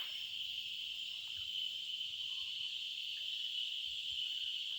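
Crickets chirp at night outdoors near Junagadh, a steady, shrill, continuous trill at moderate distance with no pauses and faint low rustling beneath.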